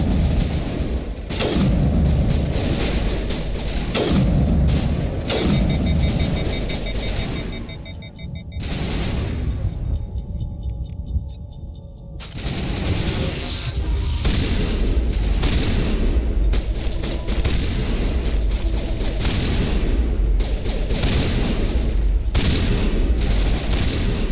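Heavy sniper rifle fire and booming combat in the video game Mass Effect Legendary Edition, dense and loud almost throughout with repeated blasts and crackling volleys, a brief lull in the middle, then more sustained firing.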